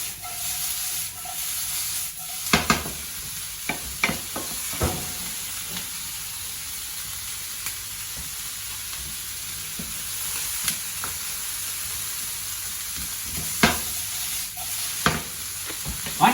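Onions sauté in a pan for a frittata with a steady soft sizzle, broken by occasional stirring scrapes and clinks of a utensil, close and fairly quiet, with no talking.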